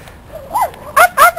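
An unleashed puppy outdoors gives two short, sharp barks close by near the end, after a quieter whining tone earlier.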